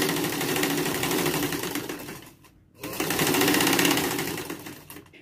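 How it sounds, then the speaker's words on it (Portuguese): A sewing machine runs steadily as it stitches a straight half-centimetre seam along a long fabric strip for a dish towel, pausing briefly midway before resuming its fast, even whirring. "Passei uma costura reta em toda a minha faixa de uma largura de, de meio centímetro em toda a extensão da faixa"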